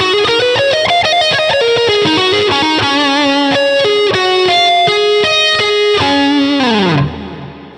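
Gibson Les Paul through a Line 6 HX Stomp with a slight gate, playing an intro: a fast, continuous run of distorted picked notes, loud and sustained, ending in a downward bend and fade, no talk.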